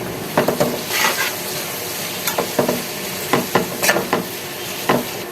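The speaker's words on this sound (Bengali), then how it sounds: "এবার দিচ্ছি পেঁয়াজ কুচি কয়েকটা তেজপাতা" Chopped onions and bay leaves frying in a pan with oil after potatoes, for a chicken and potato curry; a steady close sizzle runs throughout, broken by several sharp stirring scrapes of a utensil against the pot.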